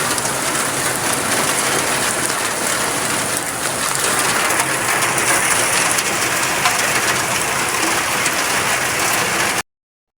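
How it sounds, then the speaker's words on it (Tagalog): Heavy rain pours steadily and loudly, a dense continuous hiss on surfaces, with no talking. "lakas ng ulan"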